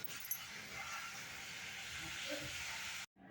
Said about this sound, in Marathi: हे आता मी लिंबू मिक्सरला लावणार आहे बारीक वाटून घेणार आहे